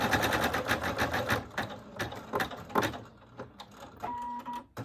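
An embroidery machine stitching a patch runs in fast, close rhythmic bursts with brief pauses between runs, ending in a steadier hum; loud and near, with no voices.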